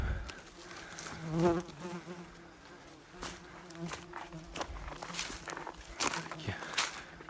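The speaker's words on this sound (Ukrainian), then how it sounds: "сидить рій, боже радий. Прилітають, відлітають" A bee swarm buzzes in a hot spot around a thick log hive, with insects flying in and out continuously at moderate level, while a person talks and footsteps and rustling sound nearby.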